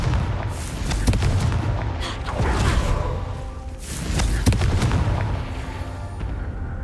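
Confringo spells are cast in Hogwarts Legacy, and three or four loud fiery explosions hit in a row, each a sharp crack that rolls into a rumbling boom, all close and heavy.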